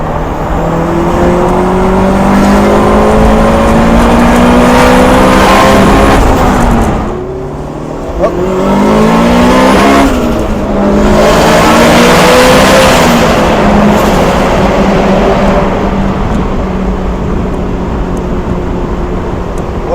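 A turbocharged Honda S2000 accelerates hard in Mexico, its engine loud and close, rising through the revs, dipping briefly at a gear change, then climbing again with turbo whine and a sustained roar.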